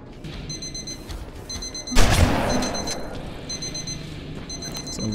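A repeating electronic alarm beeps in the Terminator Resistance video game, a rhythmic bursts of high chirping tones, with a loud explosive boom partway through and steady game ambience underneath.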